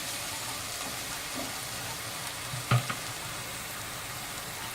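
Soft, steady sizzling of onions frying in a pan, turning light pink, with one brief clink partway through and no talking.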